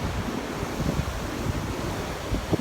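Steady roar of ocean waves washing in at a beach in San Juan, La Union, with gusty wind buffeting the microphone throughout; no voices.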